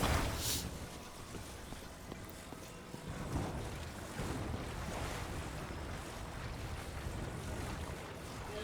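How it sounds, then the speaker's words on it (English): Link wading through water in the video game Tears of the Kingdom: a continuous, washing slosh like surf with a windy rush, steady and unbroken, with no voices. "That's because Link is walking in the water."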